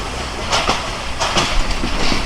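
The Titumir Express stands or moves at Abdulpur junction, a steady loud rumbling hiss broken by a few brief bursts of clatter.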